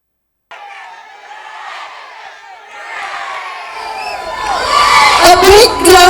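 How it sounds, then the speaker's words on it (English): Audience at a school annual day celebration cheers and shouts after a spirited 10th standard dance performance, a crowd din building steadily and getting louder and more excited toward the end, with whoops and children's voices rising above it. "A big round of applause to a spirited 10th standard performance."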